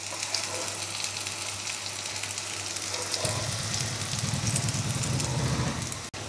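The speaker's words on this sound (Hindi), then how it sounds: "और दूसरी तरफ भी दो मिनट हम फ्राई करेंगे।" Pieces of food sizzle and crackle steadily in a hot pan after being flipped to the second side, a dense close frying hiss with no talking.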